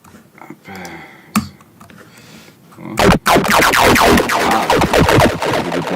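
Computer keyboard keys clatter in quick bursts, sparse soft taps at first followed by a sudden loud, dense run of rapid clicking, close up.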